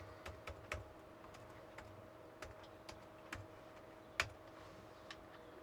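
Fingers tapping out a Wi-Fi password on a computer keyboard, a sparse run of quiet, uneven key clicks with one sharper press, close and alone.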